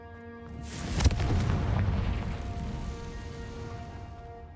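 A deep, heavy blast from the Confringo fire spell in Hogwarts Legacy erupts with a sharp crack, then rumbles and slowly fades, leaving a faint sustained tone behind.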